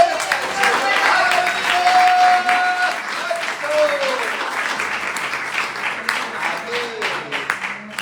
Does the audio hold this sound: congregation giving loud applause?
yes